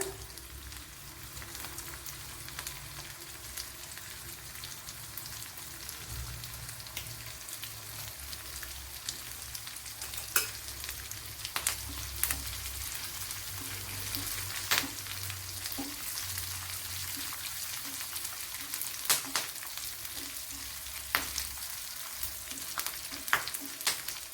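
Curry leaves and dried red chillies sizzle in hot oil for beetroot kichadi, a continuous close crackle and hiss with scattered louder pops and occasional light scraping, steady throughout with no talking.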